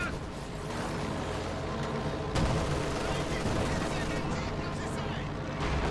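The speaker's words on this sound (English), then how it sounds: "Where we got the Pentamat machine gun up here for Spanky." Machine gun fire rattles through a Company of Heroes 2 battle, a dense, continuous barrage of overlapping shots and explosions that holds at steady loudness throughout.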